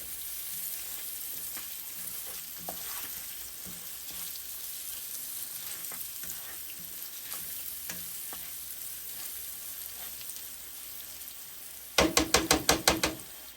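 Blended smoked herring and garlic fry steadily in a pan with a constant broadband sizzle, with faint scattered clicks throughout and a quick burst of sharp metallic taps near the end.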